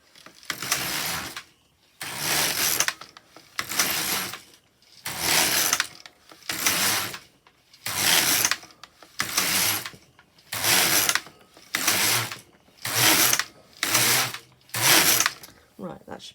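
An LK150 knitting machine carriage sweeps back and forth across rows, each pass a loud mechanical clatter and rattle lasting about a second, separated by short pauses in a steady repeating rhythm of roughly a dozen strokes.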